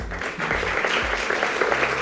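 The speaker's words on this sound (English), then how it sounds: "Why the hell are you all clapping?" A courtroom audience breaks into clapping, a brief burst of many hands with low voices murmuring underneath.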